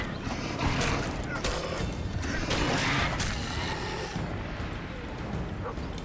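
A dog barking in The Witcher 2 game, repeated barks and yips amid crashes and clattering mechanisms, under a loud, dense game soundscape.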